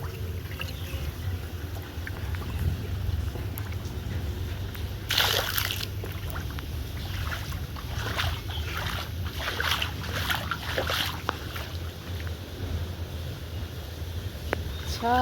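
Heavy rain pours onto a flooded rooftop where water has pooled, making a steady wash of rushing noise broken by irregular nearby splashes and sloshing throughout.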